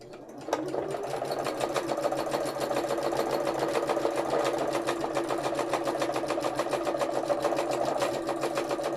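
A sewing machine stitches free-motion embroidery on hand-painted fabric, a fast steady mechanical whirr running continuously and close, with no talking.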